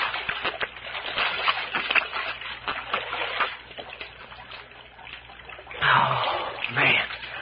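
Spring water splashes and sloshes in a creek as people drink from it, with close splatters and trickles, a louder burst of splashing near the end, and voices murmuring now and then.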